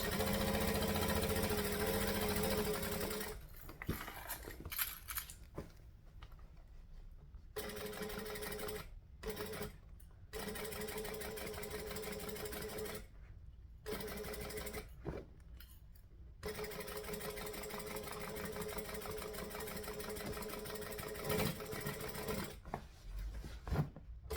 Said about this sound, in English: I'm going to go back over the last few stitches so that I can lock in the old and new stitches.